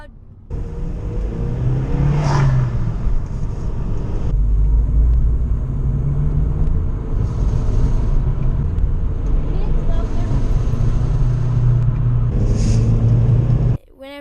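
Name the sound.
Volkswagen GTI engine making a bad noise when accelerating hard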